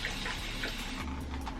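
Water splashes and runs steadily from a tap nearby, a continuous wet hiss with no talking.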